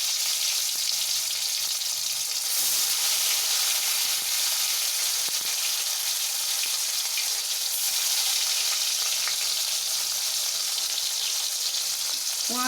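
Tomato pieces with cumin seeds frying in hot oil for a cassava dish give a steady, loud, dense sizzle that continues without a break and with no voices.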